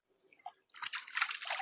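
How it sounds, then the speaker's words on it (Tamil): Rabbit meat rinsed by hand in a cold waterfall stream in the Puliyancholai forest of the Kolli Hills: a few soft drips, then steady close splashing and sloshing of rushing water. "அப்படி ஓடி வர அந்த அருவி தண்ணியில எவ்வளவு அழகா வந்து அந்த முயலை வந்து அலசிட்டு இருக்கிறாங்க"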